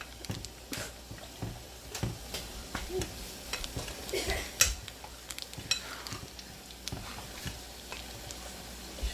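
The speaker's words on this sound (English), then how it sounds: "You just got to keep stirring." White and brown chocolate melting for Heath chocolate fudge is stirred in a pot, giving soft, irregular scraping and clinks of the utensil against the pan, faint and close, with quiet talk around it.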